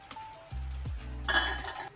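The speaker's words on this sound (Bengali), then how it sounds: "7 মিনিট পর এবার আমি ঢাকাটা খুলে নিচ্ছি।" A metal lid is lifted off a pan of cheesy chicken brinjal, giving a short scrape and clink followed by a brief hiss of released steam.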